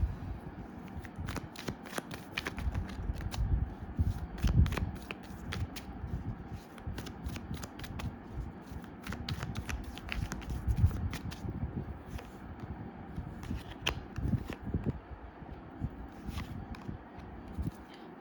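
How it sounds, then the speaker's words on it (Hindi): A deck of tarot cards is shuffled and cards are drawn, a continuous close riffle of soft, rapid flutters and flicks that lasts throughout, with no one speaking. "let's take out few more cards."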